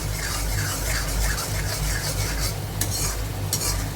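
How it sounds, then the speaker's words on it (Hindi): A spoon stirs steadily through thick besan kadhi in a pan, with a continuous scraping swish and soft sizzling, no voices. "इसको इस तरह से चलाते रहना है, क्योंकि ये लग जाएगी तो जलेबी महक आने लगती है"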